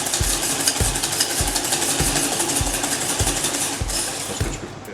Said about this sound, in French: Dès que je mets du sucre sur mes jaunes, tout de suite les mélanger